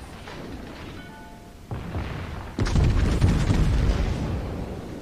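Ship guns fire in the World of Warships naval battle game, featuring the French battleships Richelieu and Alsace: a heavy boom at about two seconds, then a louder one that swells into a sustained, rumbling roar of gunfire, close and dominant.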